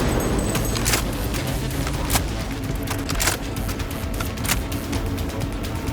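Cyberpunk 2077 combat with continuous gunfire and scattered sharp shot cracks over a dense, noisy battle background, loud and steady throughout.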